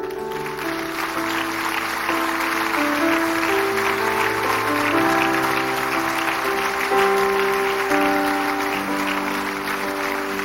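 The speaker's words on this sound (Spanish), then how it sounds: "Dele un aplauso al Señor." Congregation applauding in a Spanish-language church service, a sustained loud wash of clapping carried over steady organ or keyboard chords, continuing without pause.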